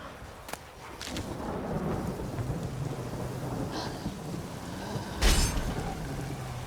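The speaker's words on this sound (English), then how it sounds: "A storm, damn it. I've not managed a storm that fine for ages." A thunderstorm with steady rain in The Witcher 3 video game: a constant wash of rainfall with low rolling thunder and a couple of sharp cracks, the loudest burst near the end.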